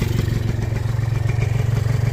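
A 2-stroke Yamaha 150cc motorcycle engine fitted with a homemade twin stinger exhaust runs loud and close. It gives off a rapid, even, pulsing drone with a rattly edge and holds at a steady speed throughout.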